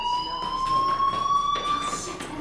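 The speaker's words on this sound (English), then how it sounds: "Hey, do you hear that fire alarm? That means you should be outside." Fire alarm in the video game Life is Strange, a piercing electronic tone sounding continuously with a faint pulsing rhythm, loud and steady throughout.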